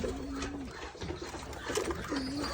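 Domestic pigeons cooing in a pigeon farm, repeated soft rolling coos close by over a quiet, busy background of other birds.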